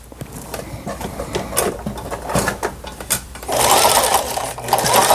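A small Lion sewing machine, with its lower shaft gear just realigned, runs straight stitches in a rapid mechanical rattle with uneven bursts, then speeds up into a steadier, louder whir near the end.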